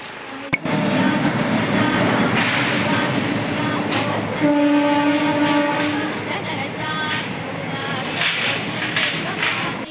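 A train rumbles past on an overhead railway line above a small temple, with clattering wheels and a brief tonal squeal or horn-like note, loud and close, with a voice faintly underneath.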